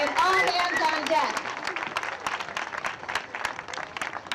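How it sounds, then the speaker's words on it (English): An audience at a school ribbon-cutting and community celebration gives a round of applause, brisk clapping rising as a voice finishes speaking, then continuing on its own and gradually thinning out. "Can we give them one more round of applause"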